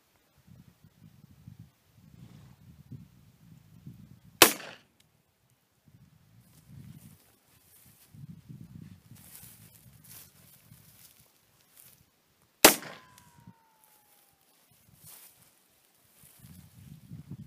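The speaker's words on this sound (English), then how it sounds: "So that was us shooting the Smith Wesson Governor" A Smith & Wesson Governor revolver fired double action with .45 Long Colt rounds outdoors: two sharp, loud gunshots several seconds apart, with low rumbling wind or handling noise in between.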